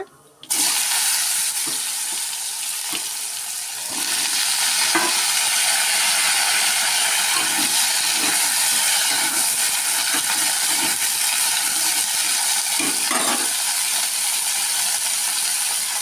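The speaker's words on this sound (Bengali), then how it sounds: "এই তেলে আমি কালি জিরা দিয়ে দেব। কালি জিরা ফোড়নে তারপরে দিয়ে দেব আলু আর ডাঁটা।" Nigella seeds, then potatoes and stems, hitting hot oil in a pan: a loud, continuous, close sizzle and hiss that swells after the first few seconds, with faint spoon knocks, no talking.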